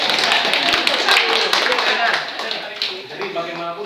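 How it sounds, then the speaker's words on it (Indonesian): A short burst of hand clapping from a small group, fading out after a few seconds as a voice comes in. "Tepuk tangan buat Enggar."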